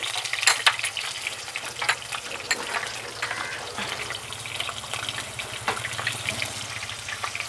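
Green chillies and cumin fry in hot oil for a cabbage pickle, making loud, close crackling with sharp pops and spits over a continuous sizzle, all without voices.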